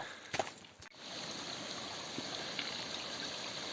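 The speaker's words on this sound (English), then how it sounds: "This little stream goes down there and I guess creates a river at some point." Small mountain stream flowing near a shelter cabin on Mount Chasu in the Nasu mountains, a faint steady trickle and wash of water, with a few brief knocks early on and no talk.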